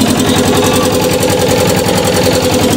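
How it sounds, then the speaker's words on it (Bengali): A passenger boat's engine chugs in a loud, steady, rapid rhythm throughout, close by with no talk over it. "তো আমরা এখন উঠে গেছি নৌকাতে, এখানে গাড়িটা চলবে, এরকম আওয়াজ।"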